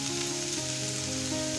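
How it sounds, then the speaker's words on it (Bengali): Capsicum dropped into hot oil in a wok, giving a soft continuous sizzle with a faint underlying hum, moderately quiet and close, no one speaking. "তেল গরম হয়ে গেছে। এরপর এর মধ্যে একে একে দিয়ে দেবো ক্যাপসিকাম,"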